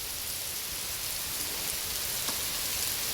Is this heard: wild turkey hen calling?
no